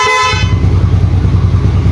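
A short, loud honk from a Yamaha Mio Sporty scooter's horn lasts about half a second, then the scooter keeps idling with a low, steady rumble up close.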